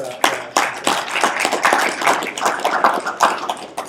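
Audience at an addictions panel talk claps in a burst of loud, close, irregular handclaps, with several sharp slaps overlapping into brief applause and no speech over it.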